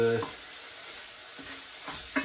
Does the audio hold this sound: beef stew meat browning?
yes